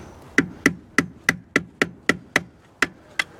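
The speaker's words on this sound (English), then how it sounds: "I got the old trusty snap-on brass hammer here." A Snap-on brass hammer taps metal on a 1968 Camaro in a steady series of about eleven sharp, ringing strikes, close and evenly spaced.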